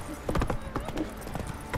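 Horse hooves clip-clopping in The Witcher 3, a few close hoof strikes in a quick irregular rhythm, with faint voice-like sound in the background.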